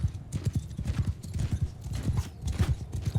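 Cavalry horses gallop in the video game Mount and Blade Bannerlord, a rapid, continuous clatter of hoofbeats with low thuds, steady and moderately close, with faint battle noise underneath.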